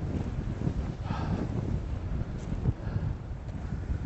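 Gusty wind buffets the microphone in low, rumbling bursts on the coast at Snettisham, steady throughout with no talking.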